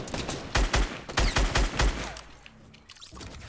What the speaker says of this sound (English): Oh my god, he shot me.